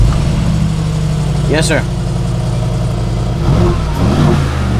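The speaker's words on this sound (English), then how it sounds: "let's start it up. Let's hear the engine rumble." A car engine rumbles steadily at idle with brief revving, close by, while a couple of people speak over it.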